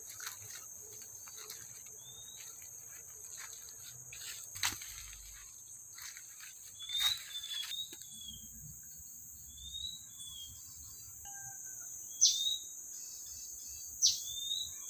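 Wild birds call in a forest while hunting for jungle fowl nests: scattered short chirps and whistles come at irregular intervals over a constant high insect drone, faint and moderately distant.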